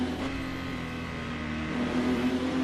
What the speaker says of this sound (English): there's going to be this weird like buzzing sound when you're on the brakes